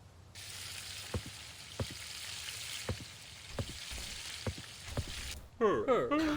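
Beef cooking in a video game gives a steady broadband sizzle with faint periodic ticks, then a burst of brighter, warbling game sounds near the end; no talk over it.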